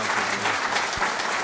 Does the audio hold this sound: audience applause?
yes